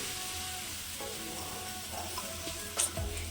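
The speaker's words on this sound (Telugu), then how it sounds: "పెనం హీట్ ఎక్కగానే రవ్వ దోశ వేసుకుందాం." A hot griddle sizzles and hisses steadily for rava dosa. The frying noise runs continuously at close range with a brief clatter near the end and no talk.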